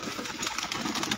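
Pigeons kept by a fancier, heard as a brief flurry of close wingbeats and fluttering with soft bird sounds; no one talks.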